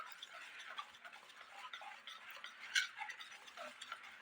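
Semolina (suji) cake batter with cardamom powder being stirred in a bowl, a soft steady scraping and tapping of a spoon running throughout, fairly faint, with one brighter clink near the end.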